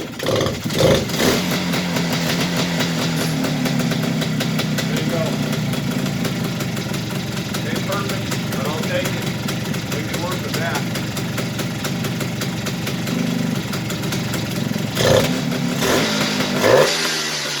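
A 1977 Kawasaki KE250 rotary-valve motorcycle engine runs and idles close by, a loud steady two-stroke burble with occasional blips of revving, continuous throughout.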